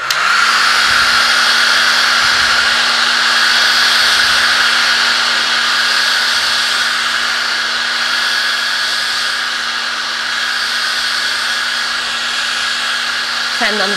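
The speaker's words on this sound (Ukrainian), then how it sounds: "Ми можемо посушити феном," A hair dryer runs continuously for about fourteen seconds, a loud, steady high whine with a constant hum beneath it. The motor speeds up at the start and shuts off near the end.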